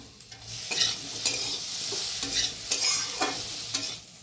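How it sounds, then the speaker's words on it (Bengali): Steady hissing sizzle of eggplant frying in hot oil, with intermittent scraping of a utensil stirring the pan, close and moderately quiet. "বেগুনটা দিয়েও ভেজে নেবো"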